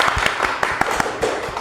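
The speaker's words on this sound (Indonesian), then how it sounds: "Tepuk tangan dulu." Hand clapping at the close of a podcast, a quick run of brisk, evenly spaced claps, fairly near and moderately loud over a faint background, with no speech.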